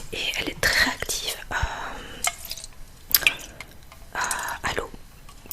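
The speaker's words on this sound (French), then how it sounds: "avant d'appliquer le make-up, je viens mettre de l'eau thermale" Thermal water is spritzed onto a face in short, soft hissing bursts, several separate sprays close to the mic with whispering between them.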